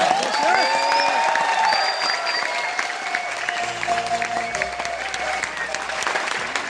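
A crowd at a Crown Diamond event for Mr. Rajesh Yadav gives loud, sustained applause for a team named Force. Dense clapping is mixed with cheers, whoops and background tones.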